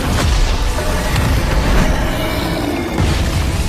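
A loud, sustained rumbling blast from an animated fantasy battle after a giant stone monster is defeated, dense low roar filling the whole stretch with no voices.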